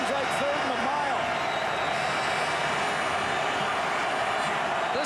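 Roaring stadium crowd at a Saskatchewan Roughriders CFL football game against the BC Lions, a dense, steady wall of noise throughout with a few whistles and shouts poking through.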